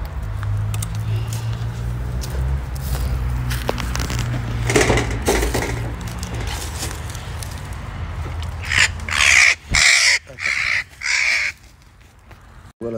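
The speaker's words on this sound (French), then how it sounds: "ça fait 4 corneilles" Several crows caw in short, loud bursts near the end, each call clear and close, after a stretch of handling noises and rustling during a rescue of corvids on a balcony.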